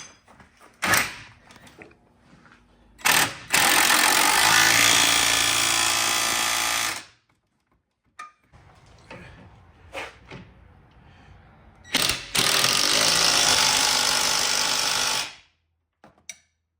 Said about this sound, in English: Tighten up our control arm.